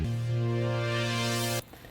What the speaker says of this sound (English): A low pass filter is going to sound like this.